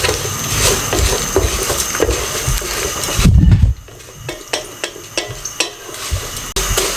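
Vermicelli (seviyan) roasting in a pan over medium flame for a custard dessert, a dry crackling sizzle with repeated scraping and tapping of a spoon, briefly louder clatter midway, then quieter stirring.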